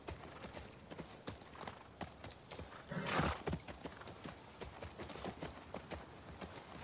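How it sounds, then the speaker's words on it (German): A horse gallops in the video game The Last of Us Part II, its hooves clip-clopping in a fast, steady rhythm with a brief snort or whinny, heard quietly and alone. "Warum läuft mein Pferd so scheiße langsam?"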